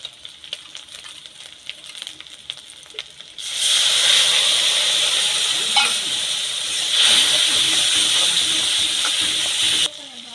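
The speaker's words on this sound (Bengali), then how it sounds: "গুঁড়ো মশলার পেস্টটা দিয়ে দেব।" Ground spice paste of chili, turmeric, coriander and cumin hits hot oil in a pan for a rohu fish dish, bursting into a loud steady sizzle after quiet clatter, continuing evenly before cutting off near the end.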